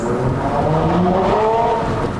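A Proton Inspira 2.0 CVT sedan with a bolt-on turbo, compressor switched off, accelerates hard in a 0-100 run, its engine drone steady and loud from inside the cabin with no talking.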